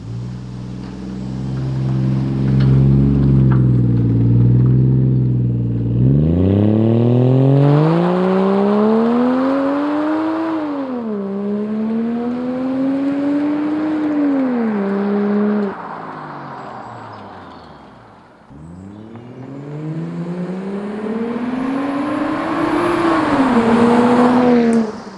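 A car with a custom TIG-welded, louder exhaust accelerates and drives past on a road, its loud engine note rising and falling across several drive-bys, fading briefly between passes.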